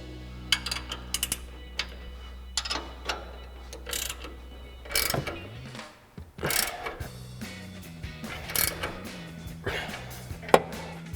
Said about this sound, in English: grab our 19mm ratcheting wrench and our 19mm wrench. And then we'll go ahead and fully snug down our control arm bolt